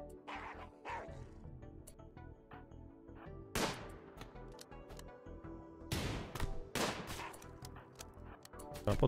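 Sharp bursts of gunfire crack repeatedly amid barking dogs in the video game RimWorld, an irregular, busy mix of shots and yelps at moderate volume.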